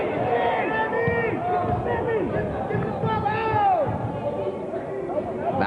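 Basketball crowd at a Sixers versus Celtics game in a gym, a steady din of cheering and chatter that swells briefly, with a commentator talking over it throughout.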